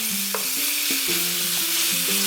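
A spoon stirs sauce with a spoonful of oligosaccharide syrup in a hot sizzling pan, rhythmic scraping strokes over a continuous loud fry, close up with no voices.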